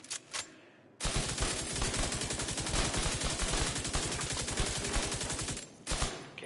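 Rapid automatic gunfire from the video game The Division 2 opens abruptly after a brief pause and runs as a fast, even stream of shots for about five seconds before cutting off, followed by a few scattered sounds.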